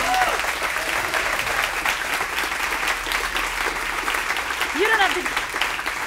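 Audience applause at a live stage show, steady and dense clapping filling the room throughout, with a performer's voice speaking briefly over it.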